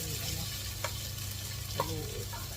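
Beef cubes fry with golden-brown onions in a pan, a steady low sizzle that runs throughout, with a couple of faint utensil clinks.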